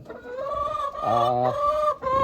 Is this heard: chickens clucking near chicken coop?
yes